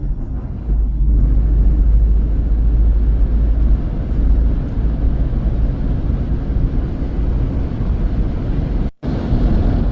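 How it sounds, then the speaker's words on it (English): Steady, loud interior road rumble of a car cruising along an empty highway in Hungary, a continuous low drone with tyre and wind noise and one brief dropout near the end. "I've already been driving for about 50 kilometers on a completely empty highway"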